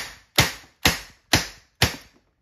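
Umarex T4E TR 50 airgun revolver fired five times at an even pace, each shot a sharp, close crack that quickly decays, with silence in between.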